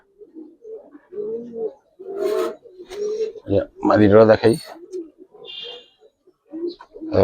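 Orange, pearl-eyed Giribaz pigeons give low, burbling coos that rise and fall throughout, mixed in with someone talking close by.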